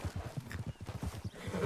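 Horse hooves in the Western video game RedM: a quick, even clip-clop of close, crisp hoofbeats striking in a steady trotting rhythm throughout.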